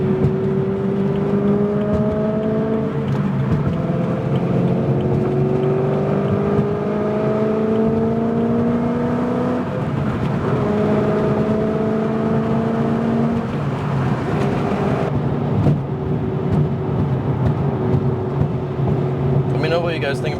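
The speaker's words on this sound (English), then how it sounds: "you can hear the car a little bit better that way" A BMW E92 M3 is driven and heard from inside through a cracked window: a loud engine drone rises in pitch through repeated gear pulls and shifts, with a steady rush of road and wind noise underneath.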